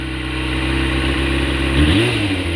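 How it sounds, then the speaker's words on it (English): A small, buzzy engine runs steadily close by, then briefly revs up near the end, its pitch rising and falling. "not a dirt bike, but a moped."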